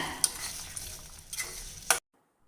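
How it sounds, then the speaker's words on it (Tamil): A utensil scrapes and stirs through tomato chutney in a pan with soft gritty swishes and a couple of sharp clinks, then silence. "இப்போ இதை நல்லா கலந்து விட்டுக்கலாங்க"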